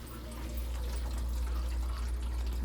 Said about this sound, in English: Draining fast.